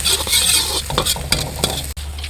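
Garlic sizzles in a hot pan while a utensil stirs and scrapes it, with bursts of crackle over a steady hiss.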